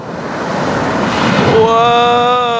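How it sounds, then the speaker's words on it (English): Heavy surf crashing and rushing back as backwash at the Wedge at high tide, a loud broad roar of churning water that swells steadily, with an excited voice shouting over it near the end. "Oh, that backwash."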